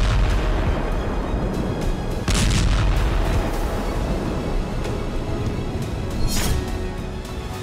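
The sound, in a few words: explosions of Russian Iskander missiles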